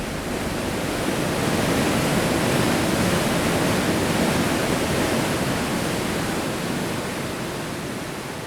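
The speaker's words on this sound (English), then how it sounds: "rush down this powerful river" A powerful river in Labrador rushing near falls, swollen with snowmelt and summer rain, making a dense, unbroken roar of water close by that stays loud and steady throughout, with no voices.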